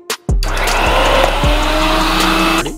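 Robo Cook 9-in-1 food processor mixer starting up and running, a loud steady motor whir with a few rhythmic clunks, close and continuous for a couple of seconds before winding down.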